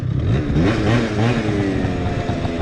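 Yamaha Zuma scooter engine revving and accelerating on a road during wheelie practice, a buzzing, clattery small-engine drone with rising and falling pitch, loud and close throughout.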